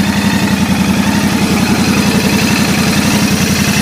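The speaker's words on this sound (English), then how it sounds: "so let me make you hear engine sound first" A Royal Enfield Bear 650 motorcycle engine idles steadily nearby, a low, even thumping pulse with a slight mechanical rattle, no voices.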